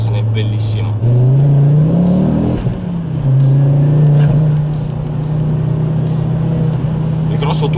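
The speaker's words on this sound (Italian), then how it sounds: "Il grosso turbo ci mette un po' a caricare" Five-cylinder turbocharged engine of a Ford Focus RS Mk2 pulls hard under acceleration, a loud, close, steady drone whose pitch climbs then settles into a sustained roar, with talking over it.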